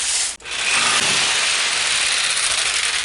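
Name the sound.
jigsaw cutting wood for a whiteboard easel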